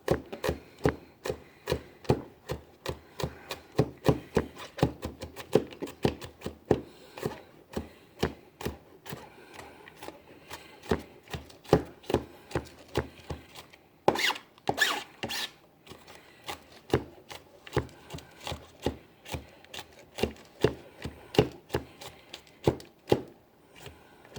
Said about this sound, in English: So mince up our garlic, just like this